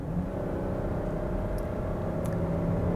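A 2022 Kia Carnival SX Prestige minivan with a 3.5-liter V6 and 8-speed automatic accelerates, heard from inside as a steady, smooth low engine hum and road rumble at moderate level.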